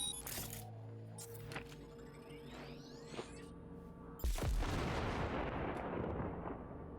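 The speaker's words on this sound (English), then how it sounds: "Now, detonate the grenade." A grenade detonates in the Cyberpunk 2077 video game: after quieter game sounds and tones, a sudden loud blast hits and its rumbling, crackling tail slowly fades. No one speaks.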